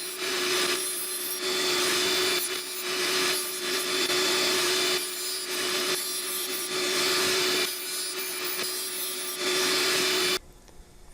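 A saw cuts along the edge of a glued wood inlay strip, with continuous loud rasping strokes in a repeating back-and-forth rhythm, close by, stopping abruptly near the end.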